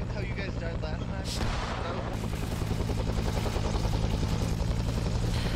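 Heavy gunfire rattles through a Vietnam War video game, with booming shots and dense rapid bursts forming a loud, continuous barrage throughout.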